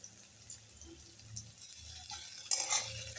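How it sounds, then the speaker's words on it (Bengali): Garlic sizzles softly in a pan for lentil dal while a spoon stirs it, giving quiet scraping and light crackling, faint and close, with a brief clatter near the end. "রসুন দিয়ে দিলাম, দিয়ে ভালোভাবে নেড়ে নিচ্ছি।"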